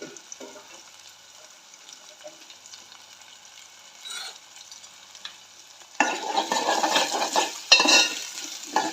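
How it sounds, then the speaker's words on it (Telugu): Onions frying in a pan for a dried fish curry with tamarind leaves, a quiet low sizzle that swells into louder crackling and stirring scrapes partway through. "ఉల్లిగడ్డలు మగ్గుతుంటే కొద్దిగా మగ్గినాక క్లీన్ చేసుకున్న చేపలు వేయాలి"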